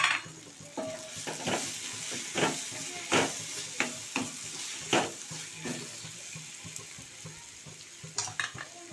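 Paneer pieces stirred into a sizzling masala in a pan, with repeated scraping strokes of a spoon, several louder clinks against the metal and a steady frying hiss underneath, close up with no talking.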